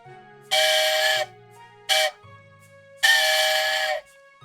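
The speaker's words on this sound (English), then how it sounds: "You know the sequence a train has to whistle when they go over a crossing." Whistle blasts in a long, short, long pattern, each a strong harmonic tone over a low steady rumble, with quiet gaps between them, sounded as for a grade crossing.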